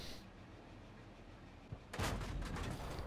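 A Panzer III J tank cannon fires in World of Tanks, with a sudden loud, broad blast near the two-second mark followed by sustained rumbling, preceded by a lower steady background.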